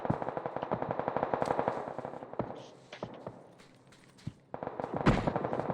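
Rapid automatic gunfire from a firefight in PUBG crackles in dense bursts, fading to sparse single shots mid-way before another loud volley erupts near the end; no voices.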